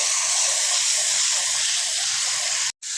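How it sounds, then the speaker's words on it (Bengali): Panch phoron spices sizzling in hot oil, a steady loud hiss that runs unbroken for nearly three seconds and cuts out abruptly near the end. "পাঁচ ফোড়ন দিলাম তেল দেওয়া করে"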